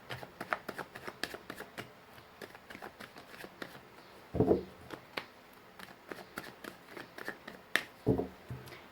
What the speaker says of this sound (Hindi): चलिए, मैंने कर लिया शफलिंग